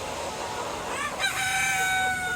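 A 14-week-old Sonali parent-stock rooster crows once, a clear drawn-out call rising out of soft farmyard murmur and clucking, close and fairly loud.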